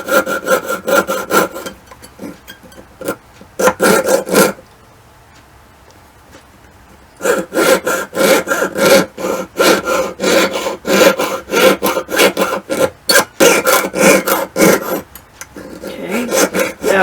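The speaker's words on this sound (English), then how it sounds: "I'm going to keep it moving and turn the saw or the metal" A jeweler's saw cuts through metal with steady, rapid back-and-forth strokes, loud and close. The sawing stops for about two and a half seconds midway, then resumes in quick rasping bursts.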